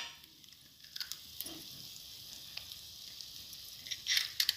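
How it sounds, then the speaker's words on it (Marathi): Eggs cracked into a hot pan for egg bhurji give a faint, steady sizzle with light crackle and a few soft taps, swelling a little near the end, no talk. "आपल्याला आता अंडे यामध्ये फोडून अशा पद्धतीने टाकून घ्यायचे"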